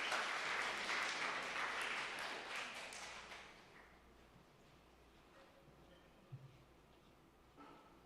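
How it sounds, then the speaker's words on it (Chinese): Applause from a church congregation during a Sunday service, a dense steady clapping that fills the room for about three seconds and then tapers off, leaving quiet hall tone with a couple of small knocks. "来拍手欢迎他"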